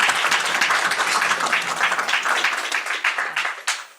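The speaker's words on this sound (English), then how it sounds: "a big round of applause to the startups" Warm audience applause for startup presenters at an industry dialogue session, a full, steady clapping crowd close by that gradually thins out and fades, with a last few scattered claps at the end.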